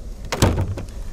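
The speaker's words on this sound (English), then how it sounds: "Just open this door." The utility compartment door on a Pleasure Way Plateau Class B motorhome van is opened, giving a few close, loud clunks and a latch click with a short rattle.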